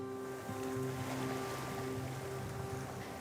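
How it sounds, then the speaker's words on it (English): Ocean waves wash onto an unspoiled beach in a steady, continuous rush of surf, moderately faint and with no voices, a low tonal hum running beneath. "the relaxing sound of the waves"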